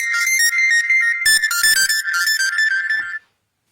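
A mobile phone ringtone plays as a steady, high electronic melody for about three seconds, broken by a few short bursts, then cuts off abruptly.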